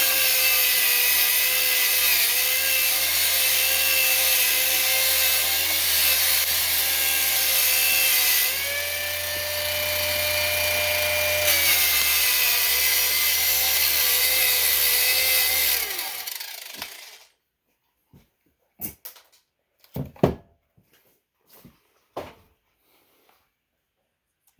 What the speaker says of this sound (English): I'm going to take the grinder out with the cone brush on it and clean it up real good.